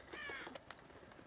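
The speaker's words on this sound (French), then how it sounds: "Et ça, c'est les corbeaux de Maléfique, hein." Crows caw in the Magic Kingdoms game, Maleficent's ravens, a few harsh raspy calls in quick succession, fairly faint and alone.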